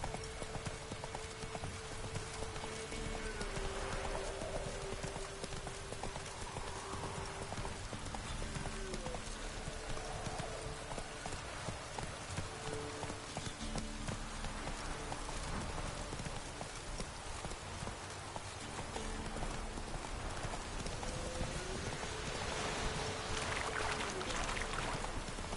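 A horse gallops in a PS4 video game, its hooves clip-clopping in a quick steady rhythm throughout, set against faint game music and ambient tones, with no voices over it.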